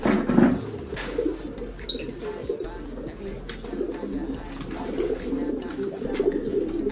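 Low, soft cooing of several pigeons continues throughout, with occasional rustles and faint chirps in the background.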